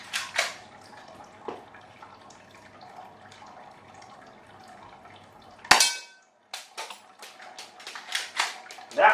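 Airsoft pistol BBs striking a target and bouncing off: a few sharp clicks and taps over a faint background, then one loud metallic smack, followed by a scatter of lighter ticks and rattles.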